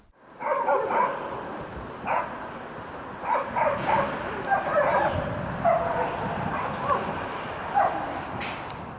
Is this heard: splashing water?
no